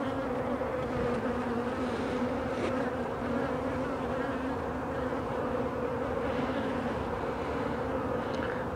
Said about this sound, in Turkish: Sanırım arı.